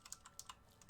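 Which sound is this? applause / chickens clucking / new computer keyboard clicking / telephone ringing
new computer keyboard clicking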